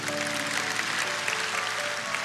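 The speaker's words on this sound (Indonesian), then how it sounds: "Kita berikan tepuk tangan untuk Tuhan." Brief, steady clapping from a church congregation during a worship service, a moderately loud wash of hands with a faint sustained tone beneath.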